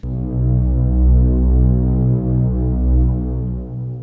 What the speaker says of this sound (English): I'm going to go all the way down to the lowest note on my piano